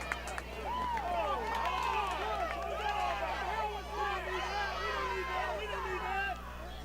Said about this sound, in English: if you can hear that chant, that's the away team's crowd out there